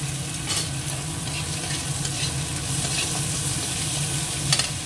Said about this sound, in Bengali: পেঁয়াজটা ভাজা হয়ে গেছে, দিয়ে দিচ্ছি কাঁচা লঙ্কা কুচোনো,